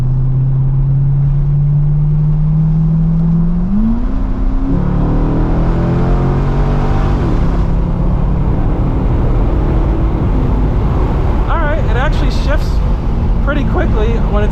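A 2012 Corvette C6 Grand Sport 4LT Centennial Edition with an automatic transmission accelerating under full load: a deep engine drone climbs and shifts up, then the roar builds with road noise, close and loud, with a voice talking over it.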